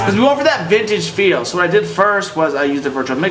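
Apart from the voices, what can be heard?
No everyday noise stands out behind the speech.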